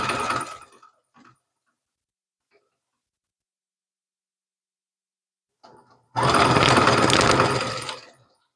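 A sewing machine runs in two short bursts while stitching a reinforcing seam on a McCalls 5241 cable-knit garment. One brief whir comes at the start, and after a long quiet gap a louder, closer run of about two seconds follows.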